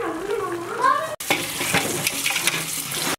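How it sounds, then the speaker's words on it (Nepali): Boiled pork is rinsed under running tap water in a kitchen sink, a continuous hiss and splash with brief cut-offs. A voice talks over the start. "अब यो चाहिँ उमालिसकेपछि यसलाई यसरी पखाल्ने"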